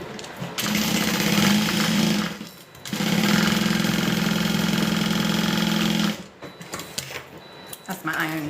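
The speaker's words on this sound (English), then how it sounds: "now I'm just going to sew along both of those sides" A sewing machine stitching along both sides of a piece, two long steady runs of motor whir separated by a short pause, then quieter handling noises and some talk.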